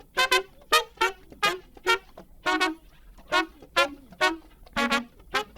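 Trumpet and tenor saxophone playing a horn part together in a Pro Tools session, a series of short, punchy stabbed notes in a syncopated rhythm, close and clear with no talking.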